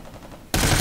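A sudden loud burst of sustained automatic gunfire erupts after a quieter half-second in the video game America's Army: Proving Grounds, close and harsh.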